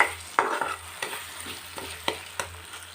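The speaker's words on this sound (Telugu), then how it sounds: "దీన్ని పచ్చివాసన పోయేంత వరకు వేయించుకోవాలి." Masala gravy for a mushroom curry fries in a pan, sizzling steadily and close, with sharp scraping knocks from stirring every fraction of a second and no talking.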